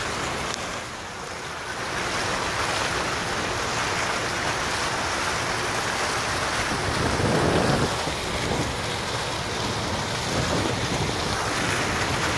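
Water waves wash continuously against a shore, forming a steady rushing roar mixed with wind noise for the whole stretch, with no talking.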